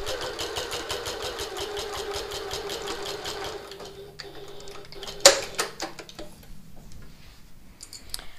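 A sewing machine stitches a seam along the folded edges of a handbag, a rapid regular mechanical chatter for several seconds, then it stops and gives way to scattered handling clicks and knocks, close and with no voices.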